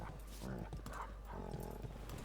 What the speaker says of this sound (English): Is that a doggo?